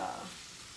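Food sizzles and fries in a hot pan while filling for lobster rolls cooks down, a soft steady hiss that fades slightly over a brief moment.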